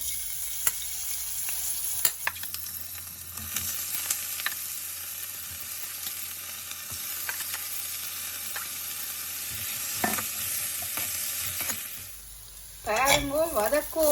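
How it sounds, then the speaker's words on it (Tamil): Pirandai (veld grape) sautéing in sesame oil for a spicy chutney, a steady close sizzle and frying crackle running throughout with scattered stirring clinks and a brief pause near the end. "இப்போ பிரண்டையை போட்டு வதக்கி எடுப்போம்"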